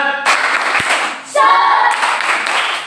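A classroom of children performs a rhythmic 'tepuk semangat' clapping chant, their hand claps mixed with loud group voices chanting along at close range.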